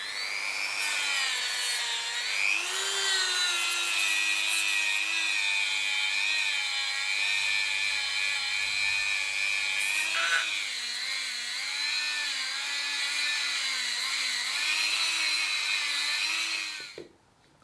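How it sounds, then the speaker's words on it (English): A Dremel rotary tool grinds during a motorcycle rebuild, with a high continuous whine that shifts pitch as the load changes and briefly dips midway. It runs loud and close, then cuts off at the end. "So the Dremel comes out."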